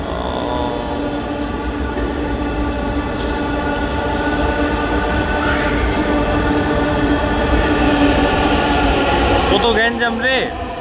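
A metro rail train pulls into a station platform as a steady, loud rumble that runs the whole time, with squealing wheels rising near the end and people talking throughout.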